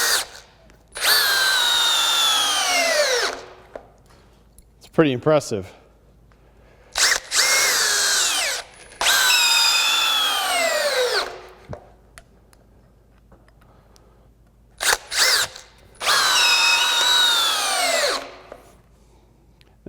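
Metabo HPT 18V MultiVolt DV18DEX compact hammer drill in high gear at 2,000 RPM, loud repeated bursts of a few seconds each with pitch sliding down as it loads, separated by short pauses; a voice speaks briefly between runs.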